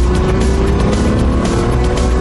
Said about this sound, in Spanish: el 456M posee uno de los motores de supercoche más avanzados del mundo